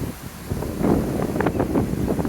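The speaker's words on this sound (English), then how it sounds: "it's getting a bit blowy" Wind gusts across the microphone on the deck of a narrowboat cruising a canal near a bridge and tunnel, a steady low rumble swelling and buffeting, with no voices.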